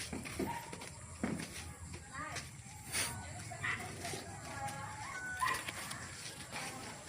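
A big dog barks and yips a few times amid background noise and muffled voices.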